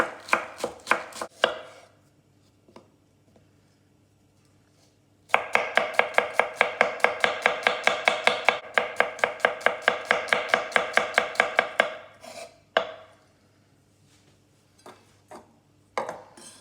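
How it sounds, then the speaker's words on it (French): A knife chops two white onions into very thin rings on a board: a few quick cuts, a pause, then a long fast run of sharp regular taps, then scattered final chops, with no talking. "je vais commencer par couper les oignons, donc en très fines rondelles"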